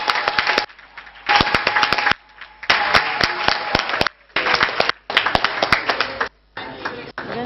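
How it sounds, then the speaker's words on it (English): Audience at an African coffee symposium claps in loud bursts of dense applause, broken by abrupt gaps and then resuming. "Please give yourselves a round of applause."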